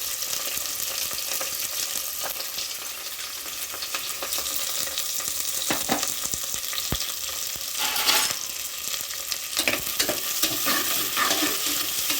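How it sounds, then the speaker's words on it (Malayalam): Sliced onions sauté with salt in a pan for chicken curry, a steady sizzle broken by repeated spatula scrapes and stirring bursts, close and moderately loud, with no speech. "സവോള ഇട്ട് കഴിഞ്ഞ് ആവശ്യത്തിന് ഉപ്പ് നമുക്കതിലേക്ക് ഇട്ട് കൊടുക്കാം"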